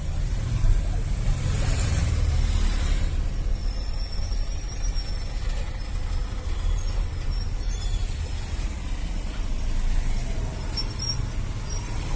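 Car traffic in Uganda flows past in a continuous low rumble of engines and tyre noise, with a heavier vehicle's hiss and passing swells, steady and fairly near.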